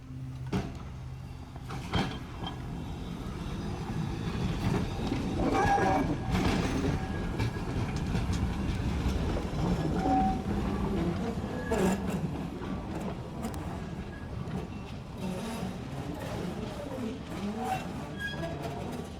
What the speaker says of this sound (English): brought out this Pacific Electric blimp, which is really cool to see